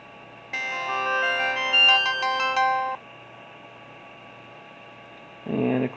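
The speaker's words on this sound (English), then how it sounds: "Put the battery on and power up the phone." A mobile phone plays its startup tone after the battery is fitted and it powers up: a bright, layered electronic chime melody lasting a few seconds, followed by a low hum and a short burst of noise near the end.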